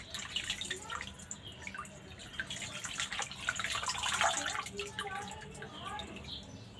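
Soft, water-soaked leaves are lifted one at a time out of water, giving close, light trickles, drips and small splashes at a quiet level.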